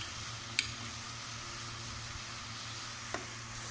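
Apple pieces go into a hot pan and are stirred while making apple murabba, giving a low steady sizzle with two sharp clicks of pieces dropping in.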